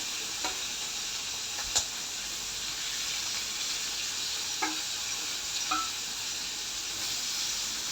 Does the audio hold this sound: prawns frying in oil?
yes